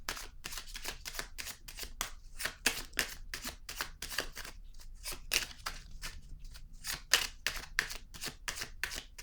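Tarot cards being shuffled by hand, a close, quiet run of crisp riffling bursts repeating in quick irregular rhythm, with brief pauses between the flutters and no talking.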